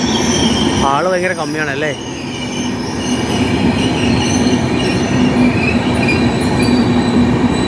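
A train arriving from Nizamuddin, Delhi, rolls steadily past with a loud continuous rumble, and a wavering metallic wheel squeal rises and falls near the start while a voice briefly speaks over it.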